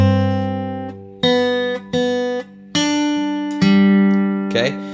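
Finger-style acoustic guitar plays the hymn "As Bread Is Broken", a bass note ringing under a string of plucked melody notes, close and clear at moderate volume with no voice.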